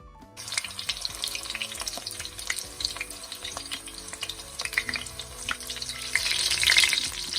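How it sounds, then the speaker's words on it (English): Filipino lumpia egg rolls frying in hot oil, a dense crackling sizzle with scattered pops that grows louder toward the end, close and continuous with no talk. "Well, these are the last ones to fry, and then we'll plate them up and enjoy them."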